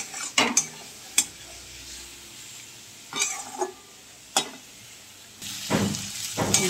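A spatula scrapes and knocks against a pan as poppy seed paste is stirred into fried potatoes, with a soft sizzle underneath and scattered clattering strokes in irregular bursts.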